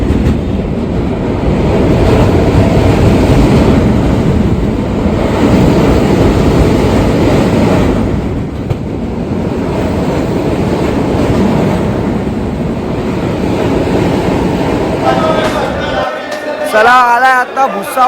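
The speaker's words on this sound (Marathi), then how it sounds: "पहिला आपण ट्रेनमध्ये चढून घेऊया" Loud, steady rumble of a passenger express train fills about sixteen seconds, then drops away to a quieter background with people's voices near the end.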